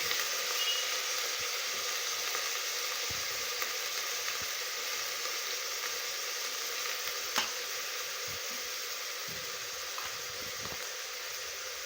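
Chopped eggplant sizzles and fries steadily in a hot pan for a traditional Khandeshi-style red eggplant dish, a constant crackling hiss with a few small pops, close and fairly loud, no voices.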